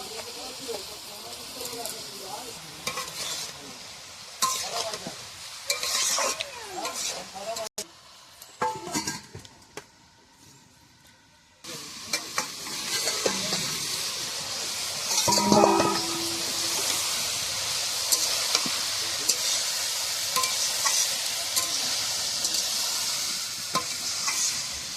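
Fried rice being stir-fried on a wood-fired stove: steady sizzling and frying with clinks and scrapes of a utensil against the pan, pausing briefly partway, then a loud continuous sizzle to the end.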